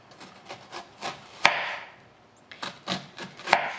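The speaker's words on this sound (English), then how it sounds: "we're going to cut lines into our onion without cutting all the way through" A knife slicing lines into an onion on a wooden cutting board, a series of soft close strokes with two sharper taps of the blade on the board, and no speech.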